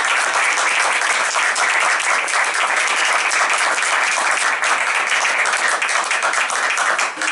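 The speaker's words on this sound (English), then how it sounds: "Can we have one more round of applause for our student performers tonight?" Enthusiastic applause for student performers at a school board meeting, a full room clapping loudly and continuously for over seven seconds with a dense, even texture.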